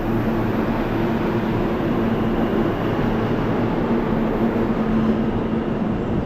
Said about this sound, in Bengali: ট্রেনটা চলে যাচ্ছে আর ট্রেন।